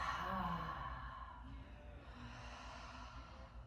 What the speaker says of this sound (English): The next time you breathe in through the nose, fill the body with air and exhale.